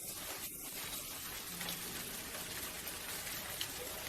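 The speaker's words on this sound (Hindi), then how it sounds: "बारिश हो रही है।" Steady rain falls in a fine, even patter on surfaces, close by and continuous with no voices present.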